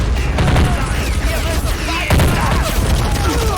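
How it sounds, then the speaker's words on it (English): Machine gun fire and battle explosions in the war strategy game Army Men of War, dense overlapping bursts and booms, loud and continuous, with a voice speaking faintly underneath. "Hey, look, there's the machine gun"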